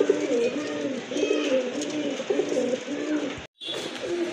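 Large pigeons coo in a steady repeating rhythm, close and fairly loud, with a brief silent break near the end before the cooing resumes.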